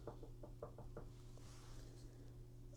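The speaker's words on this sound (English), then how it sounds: "that was me knocking on wood" A hand knocking on wood indoors, a quick run of about six light, close raps followed by a couple of softer taps, faint and without speech.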